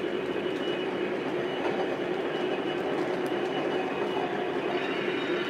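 Steady rumble and wheel noise of a Lionel O-gauge SD40-2 model diesel locomotive running continuously on a home layout, close and even without pauses, no talk.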